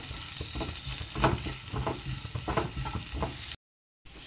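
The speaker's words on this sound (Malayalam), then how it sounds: "ഇനി എല്ലാം കൂടി ഒന്ന് മിക്സ് ചെയ്ത് കൊടുക്കണം" A spoon stirs and mixes food in a hot frying pan while it cooks, giving scraping, clattering strokes over a continuous sizzle. The sound cuts out briefly near the end.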